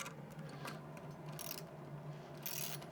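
Nylock nuts on a propane mount hinge are tightened with a ratchet, giving quick bursts of clicking separated by short pauses, close and fairly quiet.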